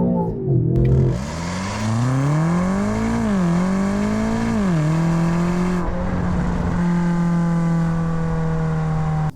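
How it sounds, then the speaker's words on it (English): A Range Rover Sport SV with a big V8 running on gasoline accelerates hard at full throttle, its loud, growling engine note climbing through several gear changes with short dips between shifts and a steady drone toward the end, heard from close by with no talking. "for something burning just gas with a big growling V8, that's quick. And it feels every bit of that. Just hammer the gas and off you go."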